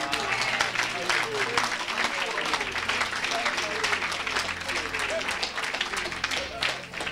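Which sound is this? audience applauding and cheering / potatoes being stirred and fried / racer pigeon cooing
audience applauding and cheering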